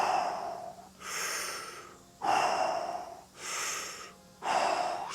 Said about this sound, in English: right now it's mouth breathing to get the most bang for your buck